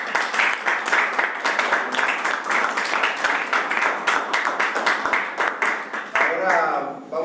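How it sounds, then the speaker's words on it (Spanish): An audience at an education conference applauds steadily, dense clapping sustained for several seconds before tapering near the end. "Les damos un aplauso."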